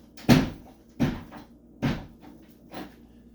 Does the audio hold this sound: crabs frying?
no